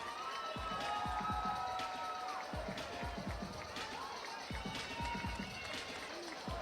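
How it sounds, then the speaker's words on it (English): A crowd at a corporate boxing event in Sydney claps and cheers for the fighters, with sustained roaring applause, whoops and thumping low impacts, while a voice is heard over the noise. "please can you give them a big round of applause?"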